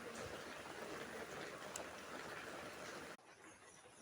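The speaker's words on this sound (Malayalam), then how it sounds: "അപ്പം നല്ല മഴയാണ്" Heavy rain pours down in a steady, dense hiss, close and loud, with the rush cutting sharply quieter near the end while the downpour carries on more softly.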